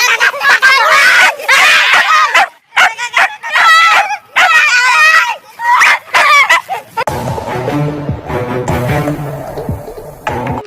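A cartoon dog barks, yips and whimpers in loud, excited bursts over several seconds, followed by a stretch of music or voices.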